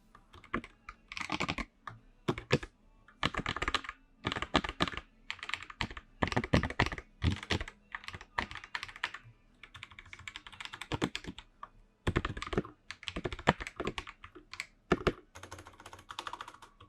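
Typing on a modded mechanical keyboard, rapid bursts of crisp clacky keystrokes with short pauses between runs, close up and fairly quiet, no talking.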